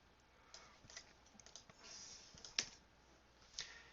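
Soft typing on a computer keyboard, a quiet irregular run of key taps and clicks with one slightly sharper click near the end, heard close and alone.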